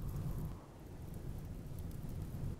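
Steady rain falls in the Rimworld video game, a soft, continuous broadband hiss with low rumbling, moderately quiet and uninterrupted, with no voices.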